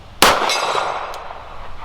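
A bullet strikes a steel gong target at an outdoor range at 50 yards, giving one sharp metallic clang that rings on and slowly fades, followed by a faint second tap.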